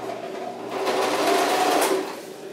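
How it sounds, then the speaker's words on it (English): A sewing machine runs steadily, stitching pieces of bivy sack material together, with a continuous close whirring hum that swells slightly in the middle. "actually sewing the pieces of material together"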